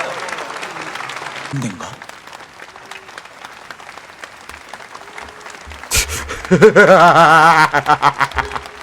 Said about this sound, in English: they're just applauding him